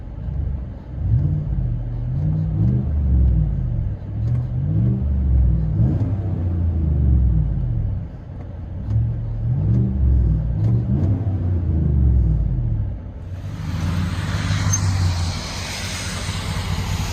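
Chevy/GMC 5.3L V8 exhaust heard from inside a GMC Sierra cab: a deep, steady rumble that swells and eases with the revs, loud and close throughout, with a brief hiss toward the end.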